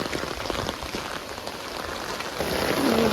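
Heavy rain pours down steadily in a dense hiss of drops onto village market roads, growing a little louder toward the end, with no talking.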